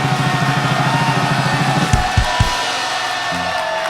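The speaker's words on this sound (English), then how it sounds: "Listen to this crowd." A live comedy-show audience cheering, whooping and yelling in a loud continuous roar, with a few sharp thumps near the end.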